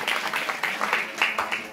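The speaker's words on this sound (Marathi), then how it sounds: "एकदा जोरदार टाळ्या होऊन जाऊ दे यांच्यासाठी" Audience at a Navratri songi bhajan programme in Kothali breaks into steady, dense applause, a continuous wash of clapping lasting the whole short stretch at moderate loudness.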